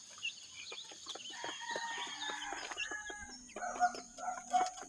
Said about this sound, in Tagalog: Ito yung mga naunang sisiw ko